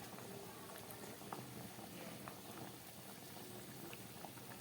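Potato gravy for Bengali ritha fish kosha bubbling at a steady boil in a cooking pot, a soft continuous burble with small pops, close and fairly quiet, no talking.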